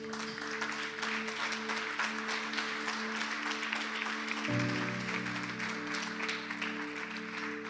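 A church congregation applauds in a steady, dense patter throughout, while a sustained organ or keyboard chord holds underneath and shifts partway through.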